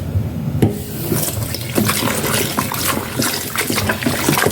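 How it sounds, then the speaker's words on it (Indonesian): Flour dough being rinsed and squeezed in a bowl of water for making bakso produces continuous loud sloshing, squishing and splashing close up, with no speech. "Nah ini akan saya bilas lagi"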